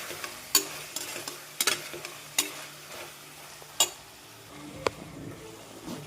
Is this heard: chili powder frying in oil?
yes